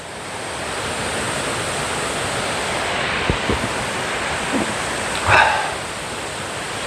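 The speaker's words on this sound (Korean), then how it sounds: "바로 옆이 계곡이거든요" A mountain valley stream at Unmunsa valley in Cheongdo flows with a continuous broadband rush of water, steady and fairly close, with a few brief knocks and rustles near the middle and end.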